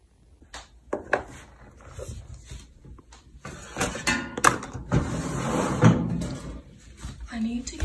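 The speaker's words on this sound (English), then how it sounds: "I need to get a new set of drawers because this one, they keep getting stuck and they're so loud when I open them." A sticking drawer is yanked open in a bedroom set of drawers, giving a few loud, scraping, knocking bursts spread across several seconds, mixed with someone talking.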